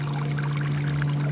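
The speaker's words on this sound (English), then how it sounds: "throw them in the water, turbulent to separate the mud from the algae" Seaweed (limu) is washed in turbulent water to separate mud from the algae, giving a steady, dense rush and splash of churning water over a constant low machine hum.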